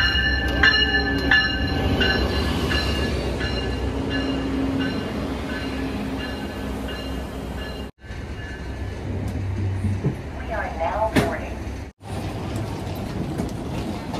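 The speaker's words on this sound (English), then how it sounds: "I can't wait to ride the train" An Amtrak passenger train moves through a station, with a continuous rolling rumble, rhythmic wheel clatter and high metallic squeals from the wheels, heard up close over about fourteen seconds with brief drops in the sound.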